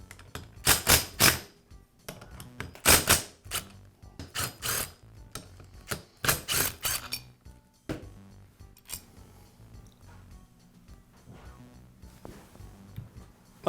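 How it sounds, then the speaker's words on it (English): Screws are worked loose from the spring-loaded pump body of a Karcher pressure washer, with a run of sharp, close metallic clicks and ratcheting bursts that thin out into quieter, scattered taps. "I'll go ahead and remove two of the screws first, and then slowly remove the other two"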